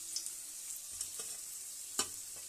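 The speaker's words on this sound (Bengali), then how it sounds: "এখন এই তেলে আমি পুঁটি মাছগুলো ভেজে নিচ্ছি।" Small puti fish frying in hot oil in a home kitchen, a soft continuous sizzle broken by a few sharper crackles and spits, quiet and close with no talking.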